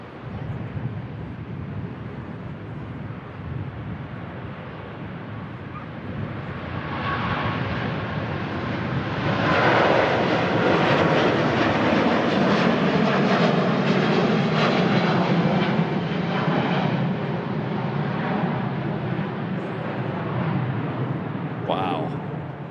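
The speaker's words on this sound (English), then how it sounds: "That A350 starting its flight to Singapore." An Airbus A350 bound for Singapore departs from Manchester, its engine roar building into a loud, broad rumble that peaks mid-pass and slowly fades while staying strong.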